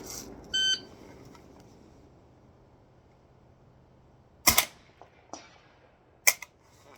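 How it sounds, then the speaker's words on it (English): A couple of short, sharp electronic timer beeps at a drill session, each brief and fairly loud over a quiet background, separated by a few seconds. "1 beep for start, 1 beep for end."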